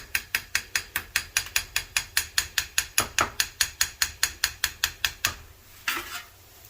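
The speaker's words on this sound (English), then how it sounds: "So all we're doing is just giving it some taps, trying to loosen it up a bit." Close, rapid metallic taps in a steady even rhythm, about two dozen, loosening a custom silver casting from a sand mold, then stopping, followed by a brief rustle.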